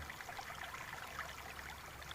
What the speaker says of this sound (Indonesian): ada air, ada sungai, ada sumber mata air.